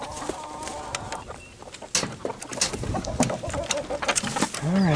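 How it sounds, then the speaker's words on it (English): Hens and roosters cluck and coo steadily in a coop yard, several birds calling over one another at close range with a few louder squawks, and no talk over them. "You see some of the hens come out two by two"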